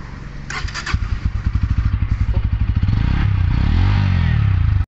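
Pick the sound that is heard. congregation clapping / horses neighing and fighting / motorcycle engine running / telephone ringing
motorcycle engine running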